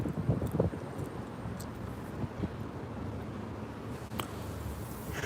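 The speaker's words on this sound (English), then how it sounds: "It's windy out here, y'all, but it feels good." Steady wind buffets the microphone throughout, a low rumbling roar with a few brief gusts and faint distant thumps, no voices.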